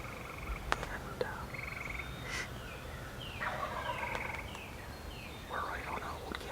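Wild turkeys gobble from roost trees above spring hunters at dawn over an old gas line: several faint, distant rattling gobbles repeat over steady outdoor hiss, with soft whispering nearby.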